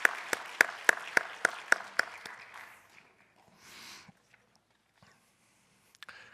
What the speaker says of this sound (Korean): 우리 다시 한번 박수로 축복해 주시기 바랍니다